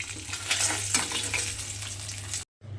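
Hilsa fish pieces frying in hot oil give a steady, close sizzle with crackling spatters that runs continuously, then stops abruptly for a moment before resuming.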